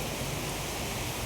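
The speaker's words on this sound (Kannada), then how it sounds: "ನೋಡಿ ಎಷ್ಟು ಜೋರಿದೆ ಮಳೆ," Heavy rain pouring down in Bangalore during a thunderstorm, a dense, steady roar of falling water that fills the whole clip without pause, loud and close, with no voices over it.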